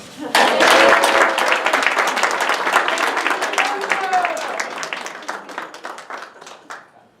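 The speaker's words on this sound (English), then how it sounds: "please give a very warm round of applause to Miss Stephanie Byrne" Warm applause from a banquet audience, many hands clapping densely and loudly at once, then thinning into scattered claps as it fades out near the end.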